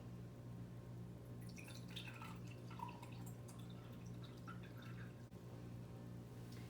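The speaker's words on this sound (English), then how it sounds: "I'm going to fill up 3 of my 5 clear glasses with water" Water pours and trickles into clear drinking glasses being filled about three-quarters full, a soft intermittent splashing over a steady low room hum, close by with no talking.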